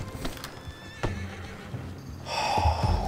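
A horse in Red Dead Redemption 2 gives a loud whinny near the end, after scattered hoof clip-clops and soft snorting sounds up close.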